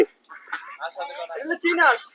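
Nasal duck quacks in a short run, close by, mixed with voices nearby.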